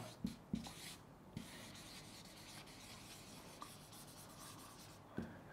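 A marker scratching and squeaking across a whiteboard as text is written, with faint steady rubbing strokes and a few soft taps, recorded quietly and without talk.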